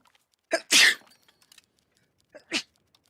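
A person sneezes: a short inhale then a sharp burst, followed moments later by a smaller second sneeze, close and otherwise quiet.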